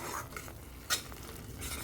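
Masala for a rohu fish curry is stirred and fried in a pan over medium-low heat, giving a soft, steady sizzle with scraping stir strokes and one sharper clink of a utensil near the middle.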